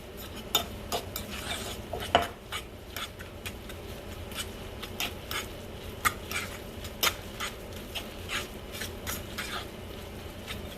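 A spoon or utensil stirring seasonings, parsley and garlic salt together in a bowl, giving repeated light scraping clicks and taps at an uneven rhythm, close and fairly quiet, with no talking.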